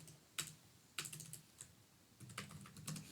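Keys tapped on a computer keyboard while entering a web search, short bursts of clicks with brief pauses between them, fairly quiet and close with no talking.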